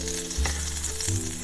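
Butter sizzling in a hot pan, a steady close crackling hiss throughout with a low hum underneath and two brief bumps as something shifts in the pan.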